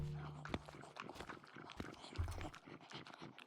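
A dog in a video game eats with looping wet chewing and biting noises, a quick, rhythmic, beat-like pattern of smacks and clicks at low volume.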